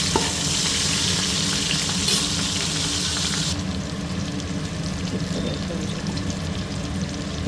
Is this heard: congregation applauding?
no